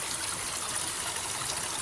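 Mountain spring water flowing out of a newly opened source, a steady, moderately quiet trickling stream with continuous bright splashing and no pauses or talk.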